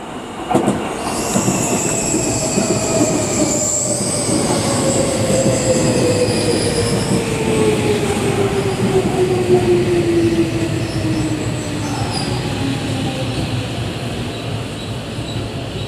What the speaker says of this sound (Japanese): 2番線に各駅停車北越谷行きが参ります